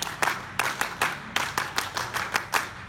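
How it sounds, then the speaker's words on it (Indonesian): Children doing a Scout (Pramuka) clap at a troop session, sharp group claps in quick rhythmic bursts with short pauses, crisp and fairly close, no talking. "2 kali tepuk Pramuka"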